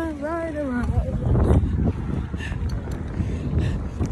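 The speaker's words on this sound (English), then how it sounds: "the wind is blowing really well" Outdoor wind buffets the microphone on a fine day while riding, a low, heavy rumble running the whole time with a person talking over it at first.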